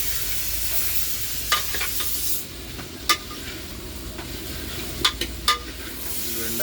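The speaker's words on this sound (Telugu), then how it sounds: "బెండకాయ కూర గుమగుమలు ఆడుతుంది అంజన." Okra curry sizzles in a pan under a steady hiss, with a few sharp scrapes and clinks of a utensil stirring it, close by and without talk.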